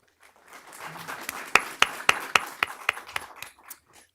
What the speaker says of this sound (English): let's give a round of applause to our students, teachers, and parents, and our leaders